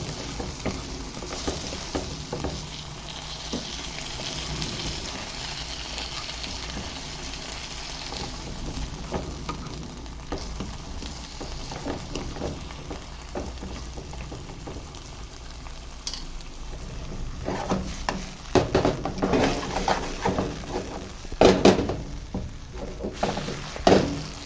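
Quinoa with soy sauce sizzles in a frying pan as it is stirred, a continuous hiss with scraping and clattering utensil strokes growing busier toward the end.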